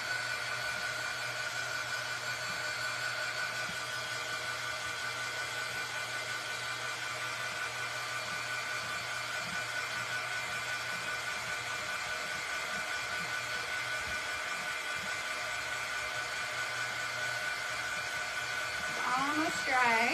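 A hair dryer quick-drying freshly applied paint blows in a steady, continuous whir for the whole stretch, with a faint shift near the end.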